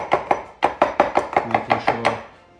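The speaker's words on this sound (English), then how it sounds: "We can always bring it to the center and give it a nice chop through." A knife chops vegetables for pico de gallo on a chopping board, about a dozen crisp, close knocks in a quick, slightly uneven rhythm, with no talking.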